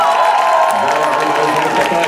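A rock pub audience in Rivne at a band's tour concert applauds and cheers as the singer walks down among them, a loud continuous wash of clapping and crowd noise with shouts.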